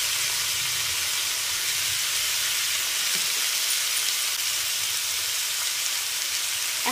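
Chow mein with chili flakes, coarse black pepper, tomato sauce and soy sauce fries in a pan while being stirred, giving a loud, steady, hissing sizzle that continues unbroken throughout.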